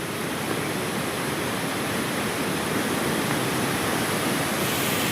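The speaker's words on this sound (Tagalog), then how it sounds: "Yan yung bulak na tubig" Floodwater gushes at Wawa dam, a loud, steady roar of rushing water that stays constant throughout, with no voices.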